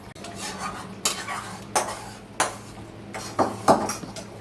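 A spoon scrapes and knocks against a pot while tamarind pulihora is stirred, several sharp metallic clinks at irregular intervals over a low background hum, close and clear.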